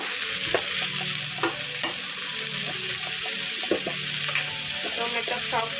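Tomatoes sizzling in an oil-filled pan for chicken curry, with steady frying hiss and repeated clinks and scrapes of a spoon stirring, close and continuous.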